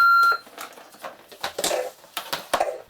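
A Darth Vader voice changer helmet gives a short electronic beep at the start, followed by clicks and handling noises.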